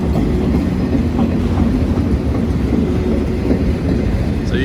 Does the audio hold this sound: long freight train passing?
yes